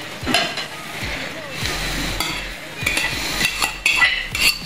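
Cooked rice being stirred into kapsa chicken biryani in a pot, with repeated scraping and clinking of a metal spoon against the pot over a soft background sizzle, close and moderately loud, no speech.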